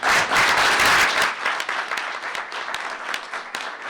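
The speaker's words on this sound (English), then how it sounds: "So let's give them a round of applause." A round of applause fills a school board meeting room, loud and dense at first, then thinning into scattered claps over the last few seconds.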